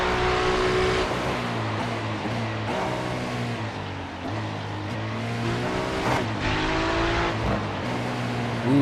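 GT3 race cars at Mid-Ohio in a racing video game, a pack of Ferraris chasing a Porsche, make a continuous loud roar of engines, rising and falling with revs and gear changes, with no talking.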